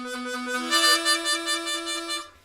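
A harmonica plays a side-to-side sweep warble in a blues lesson on a boogie, a single bright sustained chord that wavers rapidly for about two seconds, solo and close.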